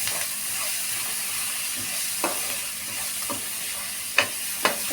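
Cauliflower frying in hot oil on a gas stove gives a steady, close sizzling hiss throughout, broken by a few short taps and scrapes from stirring.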